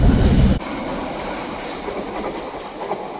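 A bullet train in Japan plunges into a mountain tunnel. A loud, close rumble cuts off abruptly and gives way to a steady, muffled roar inside the tunnel.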